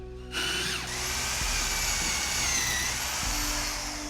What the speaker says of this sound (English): using a drill machine, drill the aimed area